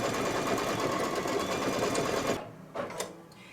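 An embroidery machine stitches a tack-down line on stabilizer-backed fabric, a fast, even mechanical whirr for over two seconds before it stops abruptly, followed by a few faint clicks in near silence.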